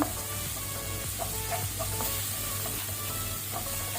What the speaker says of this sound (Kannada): ಈಗ ನಾವು ಡ್ರೈ ಪೌಡರ್ ಮಾಡಿದ ಮಸಾಲವನ್ನು ಹಾಕೋಣ. ಒಮ್ಮೆ ಇದನ್ನು ಒಳ್ಳೆ ರೀತಿ ಮಿಕ್ಸ್ ಮಾಡ್ಕೊಳ್ಳುವ